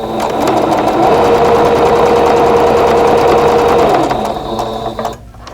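A sewing machine stitches a 2.5-inch quilt square onto a quilt block unit, a fast, steady mechanical whir that runs for about four seconds, then slows and stops.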